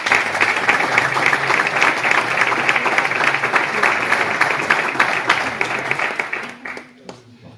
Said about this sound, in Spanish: yo creo que un aplauso para Frasco,